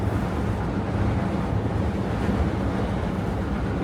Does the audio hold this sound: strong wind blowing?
yes